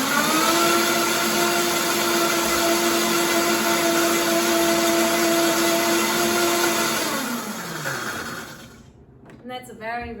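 A kitchen blender whirs loudly and steadily while blending a simple dressing, then spins down and stops, leaving a quiet moment with some faint handling noise at the end.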